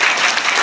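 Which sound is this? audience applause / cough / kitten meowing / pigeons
audience applause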